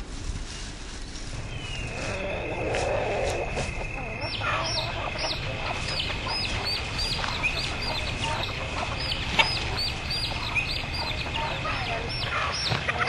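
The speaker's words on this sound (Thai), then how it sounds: "ไก่บ้านหลงกับแม่มันนะพ่อใหญ่" Domestic chickens cluck repeatedly in short, scattered calls over a continuous outdoor background hum, fairly close, with voices talking faintly among them.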